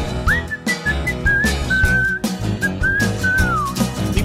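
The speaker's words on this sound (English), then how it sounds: "People like whistling." A person whistles a lively tune in clear, sliding notes over a backing music track, close and steady for a few seconds.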